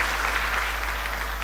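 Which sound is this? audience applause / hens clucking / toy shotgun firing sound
audience applause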